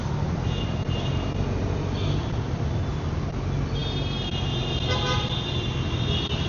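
Car horns toot repeatedly in a jammed road, several honks rising over a steady bed of idling engine and traffic rumble.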